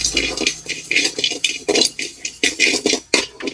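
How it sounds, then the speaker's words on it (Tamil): Rice is dry-roasted in a pan and stirred with a metal spoon, a close rhythmic series of scraping, rattling strokes, each a short gritty swish repeated about twice a second, with no voices over it. "அரிசி வந்து நல்லா வறுபடணும்."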